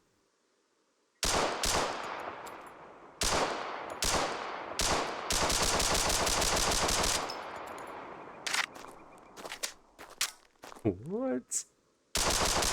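Rapid bursts of Glock pistol gunfire in Escape from Tarkov, loud sustained volleys broken by short pauses, with a brief spoken exclamation and scattered clatter near the end.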